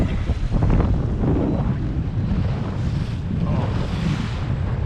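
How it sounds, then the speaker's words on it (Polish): Wind and choppy waves on Żarnowiec lake, heard from a boat while fishing for pike: steady, loud gusting wind buffets the microphone over continuous lapping and splashing water, and no one speaks. "Fala się znowu rozbujała."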